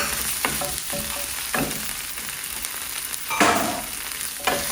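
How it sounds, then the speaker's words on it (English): Shrimp sizzle and fry in a hot pan with a steady crackling hiss, punctuated by occasional scrapes and stirs of a utensil, close and continuous with no talk. "And I think we can pop our shrimp in now"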